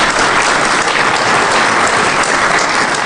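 An audience at a DEFCON 18 security talk on SCADA systems applauds after a zero-day exploit demo, a loud, dense, steady burst of clapping filling the room without pause.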